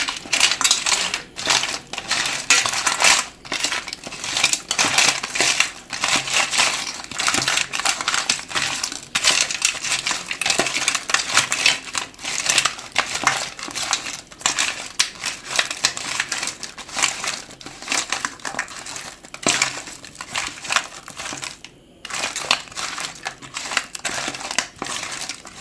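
Cleaned crab, about a kilo, being mixed by hand with masala paste: a continuous wet crunching and clattering of shells knocking together, busy and close, with no talk.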